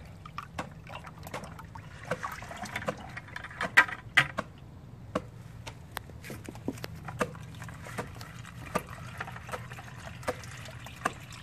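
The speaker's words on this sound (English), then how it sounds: "Now she's gonna pour this through the strainer. Our crab meat is already in there." Liquid for homemade crab paste poured through a strainer onto crab meat, a steady low trickle with scattered clicks and drips, close and moderately quiet, no voices.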